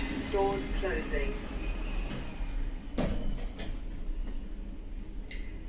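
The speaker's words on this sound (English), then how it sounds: "Doors closing." An Otis hydraulic lift at a shopping centre in Oldham, modernised by Hydroware, slides its doors shut with a soft thud partway through, set against a steady background hum and a voice talking over the start.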